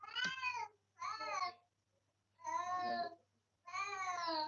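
A cat meows four times in a row, each call drawn out with a rising and falling pitch, close and fairly clear, separated by short quiet gaps.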